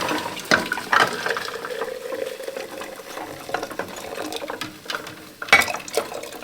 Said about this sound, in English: So I'm just filling enough water so that the jars will sink to the bottom and not tip over.